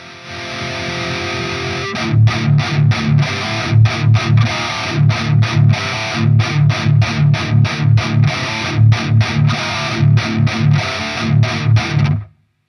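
An electric guitar runs through a tube amp with its master volume turned up, giving a loud, distorted tone as chords are struck in a steady chugging rhythm with short gaps, played alone for about twelve seconds.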